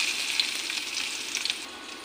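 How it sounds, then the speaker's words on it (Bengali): Whole cumin seeds fry in hot oil with a steady, close hissing sizzle and faint crackles throughout. "গোটা জিরা ভালো করে কষে নিই"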